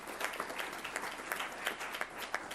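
Applause for a school district's finance department at a board meeting, a steady patter of many hands clapping with sharp individual claps standing out, moderately loud and continuous, no talking.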